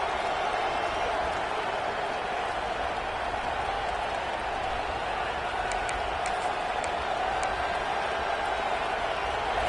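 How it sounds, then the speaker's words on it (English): A large stadium crowd at a football game roars steadily in a big open space, a continuous wash of cheering and noise with a few faint whistles rising above it. "The crowd electric trying to help Tech on this 3rd down."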